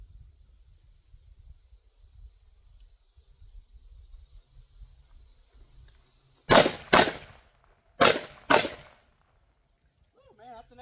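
Four loud, sharp gunshots ring out at close range during Oklahoma ZERT shooting training, fired in two quick pairs at two targets. A faint steady hum precedes them, and near-silence follows.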